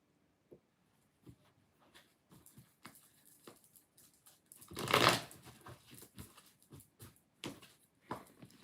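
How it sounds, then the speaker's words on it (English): Tarot cards are shuffled up close: scattered light flicks and taps, then a louder riffling burst in the middle, followed by more soft card handling. "Shuffle these cards."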